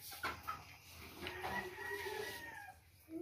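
Pet chickens cluck and murmur softly after being fed, a few drawn-out, rising calls over quiet background rustling, fairly faint and with no talking.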